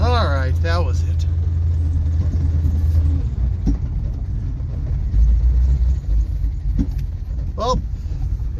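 An old car pulled from a barn after more than ten years runs with a low rough engine rumble close by, idling and revving unevenly while people talk over it.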